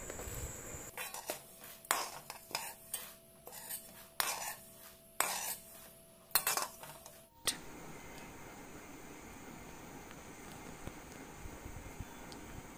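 Soft, intermittent scraping of a utensil against a pan while roasted semiya is removed, a string of faint quiet scrapes and taps, then a steady low hiss.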